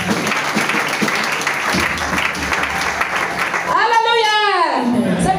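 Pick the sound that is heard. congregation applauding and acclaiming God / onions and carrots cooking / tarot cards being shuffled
congregation applauding and acclaiming God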